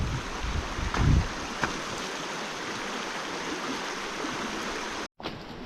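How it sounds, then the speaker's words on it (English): The Cowiche River runs fast and high in a desert canyon, making a steady broadband rush of water with a few wind buffets near the start and a brief dropout near the end. "This must be the Cowiche River, if I'm pronouncing it right. It's flowing fast and high."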